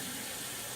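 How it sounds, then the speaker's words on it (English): Water from a kitchen tap runs steadily over Brussels sprouts held in a small strainer, a close, continuous rinsing hiss that fills the short moment with no talking. "I want to clean them and wash them off really good"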